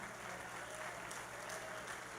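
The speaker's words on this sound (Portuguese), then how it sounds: "Vamos aplaudir a irmã Margarida." A church congregation applauding a sister during a service, a soft, even wash of clapping that sounds distant and muffled throughout.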